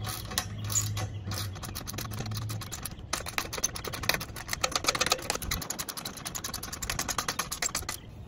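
A ratchet with a 12 mm socket tightens aluminum awning mount bolts on a 2010-2022 fifth-generation Toyota 4Runner, giving close, rapid clicking runs that continue steadily throughout.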